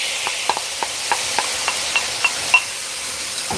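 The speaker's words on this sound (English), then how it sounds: "We're going to return the beef and any accumulated juices that it has back into the pan." Beef and its juices go back into a hot pan for a stir-fry with peanuts, bringing a steady, bright sizzle punctuated by light, regular clicks of a utensil.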